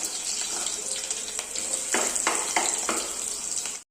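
Ginger and garlic sauté in a hot pan with a continuous sizzling hiss, broken by several distinct spatula scrapes and stirs toward the middle of the clip, with no talking.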